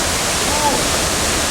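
A thin, tall waterfall on a rainforest-covered cliff on Camiguin Island pours as a steady, loud broadband rush of falling water, unbroken through the short stretch.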